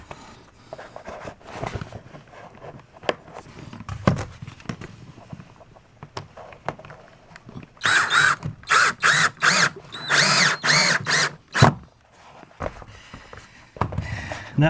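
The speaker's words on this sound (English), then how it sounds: "You want to put it on with a screw. Fasten it with a screw." A power drill drives a screw to fasten a shower pan liner in a tile shower build, whirring in several loud, close bursts with short pauses between them after quieter handling noises.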